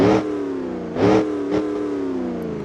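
Diesel engine of a limousine in BeamNG.drive, fitted with a loud aftermarket exhaust, revving in three sharp bursts that settle into a steady idle drone, close and loud with nobody talking.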